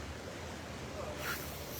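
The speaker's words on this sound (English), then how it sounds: "This is the creek right behind me." Creek running high after heavy rain, a low continuous rushing wash of water outdoors with some wind buffeting the microphone, fairly faint and steady.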